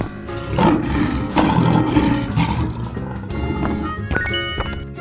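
A lion in a 3D animal sliding game lets out a loud, sustained roar over busy background game music.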